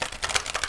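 Tarot cards riffle and slap together in a brisk shuffle, a close run of soft papery flutters and taps over roughly a second.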